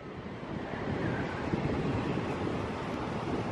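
Strong wind roars steadily across an open cruise ship deck aboard Independence of the Seas, a loud, unbroken broadband rush buffeting the microphone throughout.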